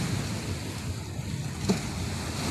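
Sea waves at a marine sanctuary, a soft steady wash of surf mixed with wind noise, faint and continuous with one small splash near the end.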